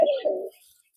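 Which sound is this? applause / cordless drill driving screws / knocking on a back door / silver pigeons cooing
silver pigeons cooing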